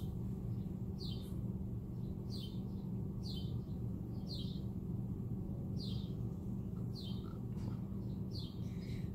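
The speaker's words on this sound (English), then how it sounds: "So since I have all these birds out here singing to me" Wild birds sing outdoors near a bird feeder, short bright chirps repeating roughly every second at moderate distance over a steady low background hum.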